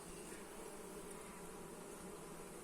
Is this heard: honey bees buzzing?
yes